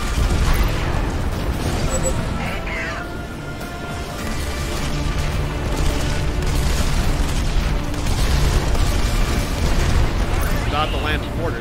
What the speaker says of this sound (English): Fire the mortars!